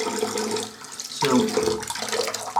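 Tap water runs steadily into a sink as a face is wetted ahead of a wet shave with safety razors. The rushing stream stays close, continuous and fairly loud throughout, with a brief shift in tone partway through.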